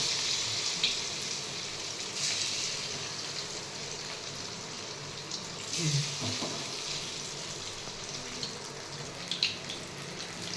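Chicken 65 frying in a pan over a slow flame, a faint steady sizzle and crackle with occasional small pops and brief utensil sounds, no talking.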